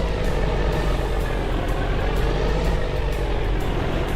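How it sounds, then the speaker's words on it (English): Truck engine in Farming Simulator 25 running at a loud, steady drone with a broad low rumble and no pauses; no speech. "The truck is louder than you are."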